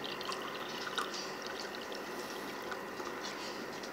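Orange juice poured from a shaken carton into a glass, a soft, continuous trickle with faint splashes, close by and quiet, with no talk over it.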